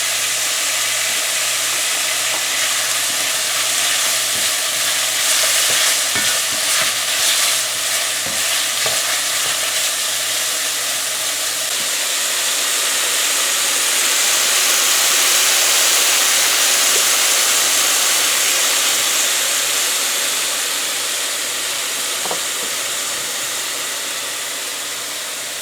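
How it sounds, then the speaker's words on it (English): Chopped tomato frying in a pan with shrimp and bitter melon, giving a loud, steady, hissing sizzle that swells in the middle. A few faint stirring scrapes come early, and there is no talk. "So we have let this fry here for about a minute and a half or so to release all the flavors from everything in there"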